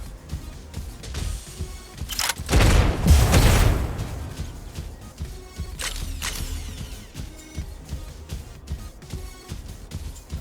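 Incoming weapon fire in Mech Arena, with mechanical clanks and ratcheting clicks, a loud rushing blast swelling near the start, then sharp metallic hits and whirring continuing steadily.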